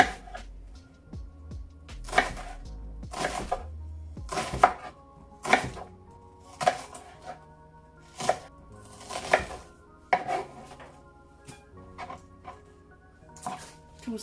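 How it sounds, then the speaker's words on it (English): A knife chops an onion on a cutting board in a run of about a dozen crisp, evenly spaced strokes, close and clear, with no talk. "I'm just gonna cut my onion"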